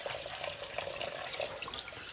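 A tap runs in a steady, close, hissing stream with a faint bubbling texture, continuous for the whole short stretch and with no voices.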